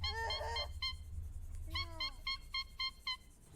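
A large bird gives a brief cry followed by a run of short, evenly spaced honks, fairly close and clear against a low background rumble.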